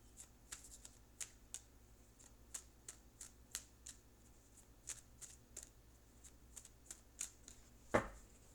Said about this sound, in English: I'm going to go ahead and pull an oracle card,